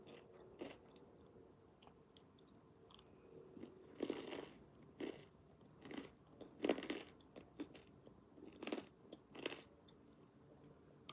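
Crunchy, croissant-like pizza crust from a BBQ jerk chicken pizza is bitten and chewed close to the mic, with a run of irregular crisp crunches over a faint background.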